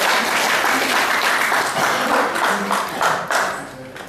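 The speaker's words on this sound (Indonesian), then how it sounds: "Sekali lagi kasih aplaus untuk kelompok 2." An audience at an English teachers' training workshop for vocational school teachers in Bali applauds group 2 with dense, steady clapping that stays loud throughout and thins slightly at the very end.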